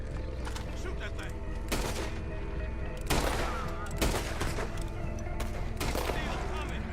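Video game gunfire from Red Dead Redemption 2, a dense stream of rapid shots and bursts with louder cracks around the middle and end, heard under a continuous loud game soundtrack and action noise with voices.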